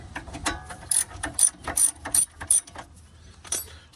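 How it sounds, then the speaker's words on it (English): A hand ratchet loosens the brake caliper bolts on a Ford Police Interceptor Utility, giving a close run of sharp, evenly spaced clicks over a few seconds with a faint tail at the end and no talk. "Remove the bolts."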